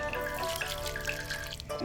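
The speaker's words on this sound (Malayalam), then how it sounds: "ഒഴിക്കുമ്പോൾ കുറച്ച് കൂടുതൽ വെള്ളം ചേർത്തിട്ട് വേണം നമ്മളത് ഒഴിച്ചു കൊടുക്കാൻ" Diluted neem cake fertilizer water is poured onto tomato plants, a close, continuous splashing trickle of liquid for a couple of seconds, alone without talk.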